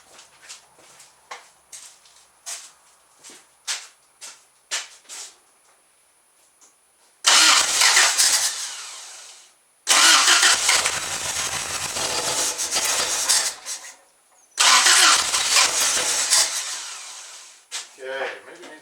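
A Toyota engine cranks in a small shop as fuel is pumped up to it, giving three loud, sustained bursts of cranking with pauses between them, preceded by quiet clicks and a voice talking.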